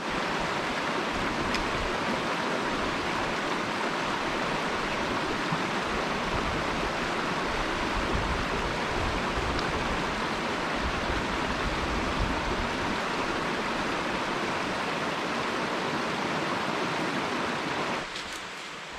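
Brook water rushing steadily in the Adirondacks near Wright Peak, a dense, even roar of flowing water close by that holds unbroken for the whole stretch, dropping slightly right at the end.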